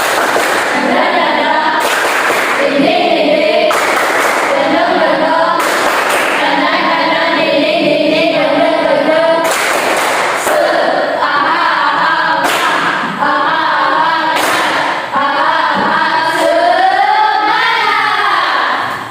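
Seated class doing the tepuk semangat ice-breaker, a chanted call with sharp rhythmic group clap bursts at regular intervals between sung syllables, loud and close throughout.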